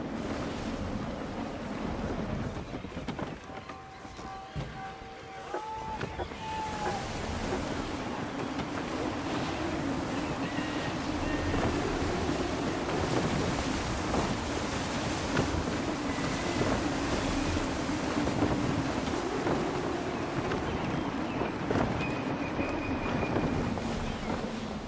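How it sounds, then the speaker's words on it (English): Gusty wind at sea while sailing in Assassin's Creed 3: a steady, loud roar of wind and surf runs throughout, with faint tonal sounds drifting through it. "Wind looks to be shifting. Stay alert, Connor. Gusty winds can be difficult to manage."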